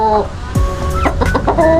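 A tethered breeding rooster and chickens cluck in a busy, continuous burst of overlapping close calls, with one short rising squawk midway.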